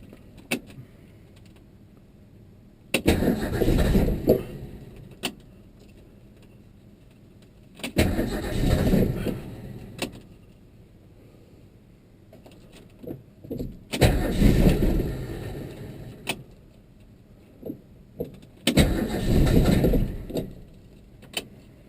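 A 1966 Ford Mustang coupe with no manual choke is cranked on a very cold day. Four separate bursts of starter whir and engine churn come a few seconds apart, each dying back to quiet, with small clicks and rattles between attempts.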